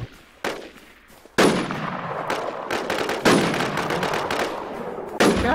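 Bursts of rapid gunfire from the shooting game Infectz, several volleys of automatic fire with short gaps between them, loud and close.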